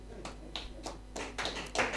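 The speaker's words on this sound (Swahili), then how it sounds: "Tupigie Bwana Yesu makofi" A church congregation claps for Jesus during a service, producing a loose, uneven run of hand claps that builds slightly toward the end and stays fairly quiet.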